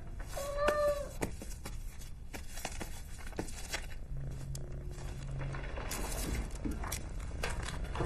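A cat meows once clearly early on, close and distinct, over a constant noisy background with scattered rustling and tapping sounds, and no other calls follow.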